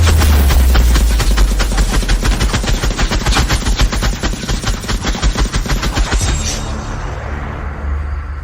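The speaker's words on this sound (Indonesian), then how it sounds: "Semua orang siap, lanjutkan tembakan." Sustained automatic gunfire from a drama scene rattles in rapid, loud bursts for about six seconds, then stops abruptly, leaving a low rumbling tail.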